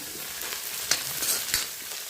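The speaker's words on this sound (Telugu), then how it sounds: "అలాగే పచ్చికరివేపాకు వేసేసుకుందాం అలాగే ఆనియన్స్ వేసేసుకుందాం ఇక కలిపేసుకుందాం" Onions and fresh curry leaves fry in oil in a pan while being stirred, giving a steady soft sizzle with a few brief scraping clicks from the stirring; no one speaks.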